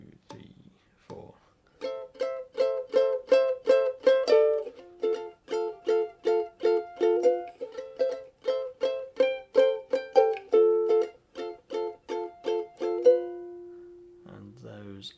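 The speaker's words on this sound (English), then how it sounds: "So playing these verse chords again, a bit slower." Fingerstyle ukulele plays the verse chords of a song slowly, a steady run of plucked notes and chords, close and clear, with brief speech at the start and end.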